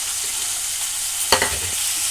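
Capsicum pieces fry in a pan, giving a continuous sizzle with a short burst of stirring clatter partway through.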